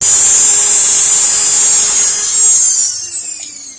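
Sanding a black coral (akar bahar) bracelet, a loud, continuous high-pitched abrasive whine from a powered sander held close, steady at first then fading out as the tool winds down.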